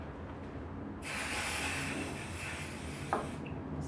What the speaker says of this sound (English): Spray the adhesive.